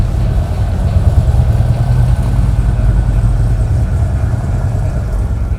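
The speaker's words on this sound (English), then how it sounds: "I got the SNS intake paired with a 2-in-1 Bassani mid-length exhaust" A Harley-Davidson Road Glide Special fitted with an SNS intake and a stainless 2-in-1 Bassani mid-length exhaust idles steadily, a loud, continuous low rumble close by with no talking.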